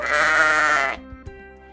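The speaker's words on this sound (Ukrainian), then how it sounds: "Вівця." A sheep bleats loudly and alone for about a second, a sustained wavering call that then breaks off into near quiet, with a couple of faint knocks afterward.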